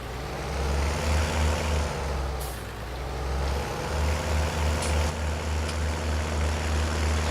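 Tractor engine in Farming Simulator 19, heard from inside the cab: a loud, steady, low diesel drone with a throbbing pulse, briefly dipping and then picking up again, with no voices.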